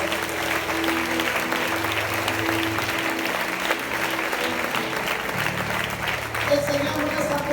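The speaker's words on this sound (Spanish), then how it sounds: "Dale un fuerte aplauso, Señor" A church congregation claps loudly and continuously through a Spanish-language service, the dense applause mixed with voices and a low musical drone throughout.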